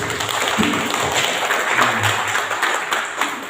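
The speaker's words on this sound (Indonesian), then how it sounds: "Tepuk tangan yang meriah untuk tentunya." A crowd at a national discussion forum claps steadily and continuously for several seconds, a dense, fairly loud wash of applause with scattered thumps.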